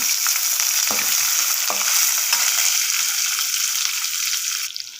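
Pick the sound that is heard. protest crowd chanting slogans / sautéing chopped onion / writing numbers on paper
sautéing chopped onion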